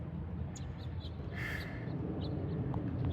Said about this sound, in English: Looks like there's a little bird in there.